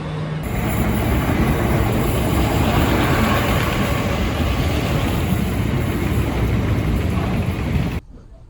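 A British Rail Class 465 train runs at speed, a loud, constant roar of wheels and motors heard from inside the carriage, steady throughout before cutting off abruptly near the end.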